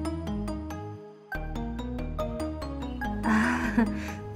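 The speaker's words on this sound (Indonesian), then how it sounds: "Sebentar ya Gus, Mimin mau angkat telepon dulu" A mobile phone rings with a bright, repeating melodic tone, each note struck in quick rhythm and sustained, fairly loud and close, with a short gap partway through and a noisier burst toward the end.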